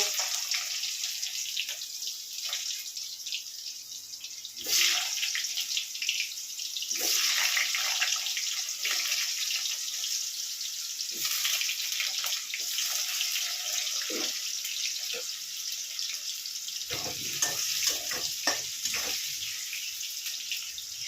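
Pre-cut potatoes frying in a pan with green chilli give a steady, even sizzle throughout, with occasional soft clinks and scrapes of stirring.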